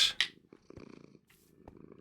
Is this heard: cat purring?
yes